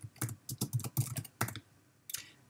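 Code is typed on a computer keyboard in quick, close bursts of crisp key clicks, a flurry of taps followed by a pause and a final short run of keys.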